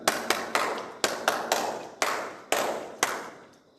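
Rhythmic hand clapping during a yoga and pranayama session. Sharp, close claps come in repeated patterns of two and single beats, each ringing briefly in the room, with no talk over them.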